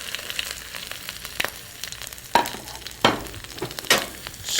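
Mustard seeds fry in hot oil in a pan, a steady sizzle punctuated by several sharp, loud pops and crackles that grow more frequent toward the end, with no talk.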